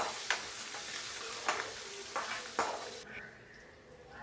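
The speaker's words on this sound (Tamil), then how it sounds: "பூண்டும் சின்ன வெங்காயமும் நல்லா நிறம் மாறுற அளவுக்கு நல்லா வதங்கட்டும்." Garlic and small shallots fry in hot oil in a pan, giving a steady close sizzle with a few sharp stirring scrapes spaced through it. The sizzle drops back and grows quieter near the end.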